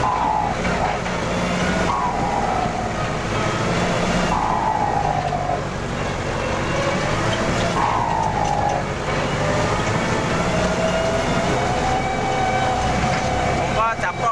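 A Kubota L5018 diesel tractor engine drones steadily at close range, with recurring whining rises in pitch as it works; no talk is heard.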